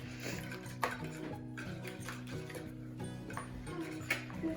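Pancake batter with milk is whisked in a bowl, a faint, steady ticking of the whisk against the bowl heard under soft background music.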